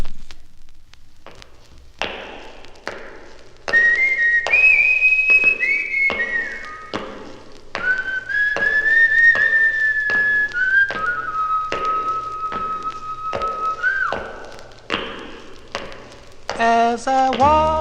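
Melodic whistling from the 1957 Capitol record Walkin' and Whistlin' Blues by The Four Knights, long sustained whistled phrases over a rhythmic backing beat with instruments, clear and prominent throughout.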